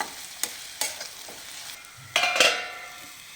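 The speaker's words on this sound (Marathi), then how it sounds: "आता हे पुन्हा एकदा छान मिक्स करून घेऊया" Hadga flower bhaji is stirred in a pan, with a few spoon taps and scrapes over a light sizzle, then a louder burst of frying and stirring near the end.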